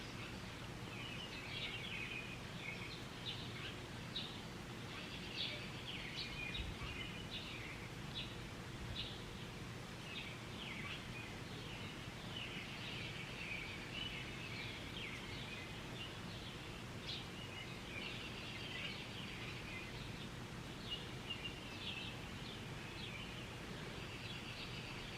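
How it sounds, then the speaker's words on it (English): Birds chirp outdoors, faint scattered calls and tweets at a distance over a soft steady background with light rustling, continuing throughout without talk. "Listen to all the birds."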